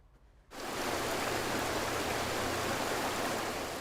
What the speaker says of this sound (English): When you hear the riffles, you can't hear any traffic or anything.